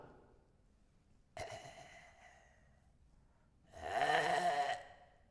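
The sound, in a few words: voice imitating dying person's rattling snore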